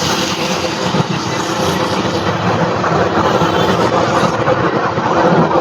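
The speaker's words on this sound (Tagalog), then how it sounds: "Grabe nga trabaho ng motor oh." A pumping station motor runs hard during heavy rain flow on the Pasig River, a loud, steady mechanical roar with broadband rumble that continues without a break.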